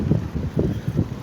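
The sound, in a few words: wind while cycling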